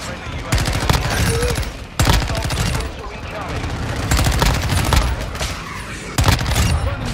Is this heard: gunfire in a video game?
yes